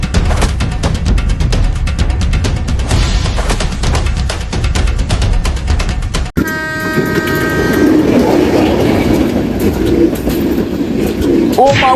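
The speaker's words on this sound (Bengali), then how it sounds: "ট্রেন তো চলে আসলো" A train passing on a railway line, loud continuous rumble with a sharp cut halfway, then a horn blast and bird calls over lingering rail noise.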